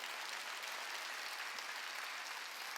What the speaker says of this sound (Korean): 귀가 있는 자 깨달은 사람만 박수 치세요